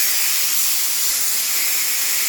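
Drywall texture spray gun spraying during water-damage house restoration, a loud continuous close hiss of air and material that holds steady throughout, no talk.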